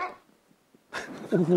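After a short exclamation, a person imitates a dog with a yelping, whimpering bark, close and fairly loud.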